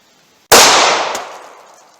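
A single sharp gunshot from a .32 H&R Magnum handgun, a loud close crack with a ringing decay over about a second, heard alone without talk.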